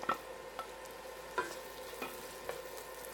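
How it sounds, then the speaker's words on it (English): Onions and garlic saute in a pan for corn chowder with a soft, steady sizzle and occasional light stirring clicks, quiet and close. "Now, I'm just going to saute this until the onions are slightly translucent."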